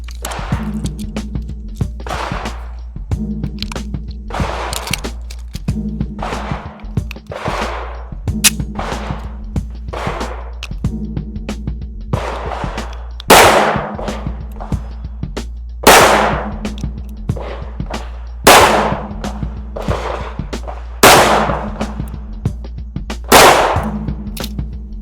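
Rifle shots fired at a distant target during a long-range shooting drill, several sharp, loud single reports spaced a few seconds apart, each with a brief trailing echo over steady outdoor background hum.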